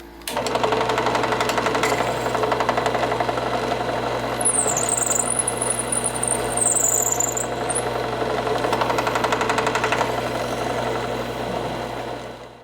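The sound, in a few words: drilling into wood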